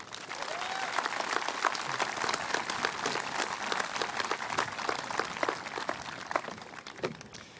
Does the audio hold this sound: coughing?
no